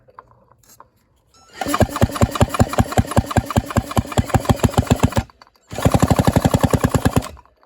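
A rebuilt 1963-64 Homelite C7 chainsaw engine fires with rapid, loud, evenly spaced pops for several seconds, cuts out briefly, then fires again at close range.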